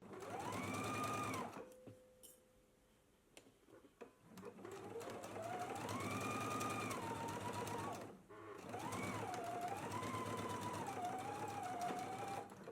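Sewing machine running a pocket seam at a 5/8-inch allowance, a close, steady whirring hum in long runs, briefly pausing and restarting twice.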